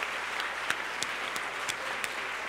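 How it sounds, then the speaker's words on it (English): A conference audience claps steadily and evenly, a dense, fairly loud patter. A few sharper individual claps stand out at regular intervals. "I also want to make sure that we give a warm round of applause to the organizers of this conference"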